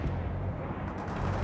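Sustained suppressing gunfire from a World in Conflict battle: a dense, unbroken rumble of shots and blasts at steady loudness, with no voices.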